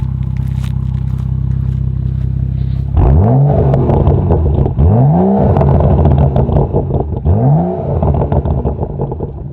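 BMW M235i with its muffler deleted, revving in sport mode: three loud, sweeping rev blips rise and fall in turn over a steady, rumbling idle, close and alone with no talk.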